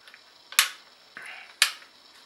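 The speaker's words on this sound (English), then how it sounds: "all you do is press the lever and swivel it" Two sharp metallic clicks about a second apart from the lever on a swivel breech rifle being pressed and swiveled, with a softer scrape between them, close up in a quiet setting.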